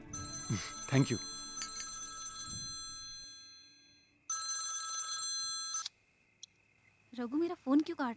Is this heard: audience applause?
no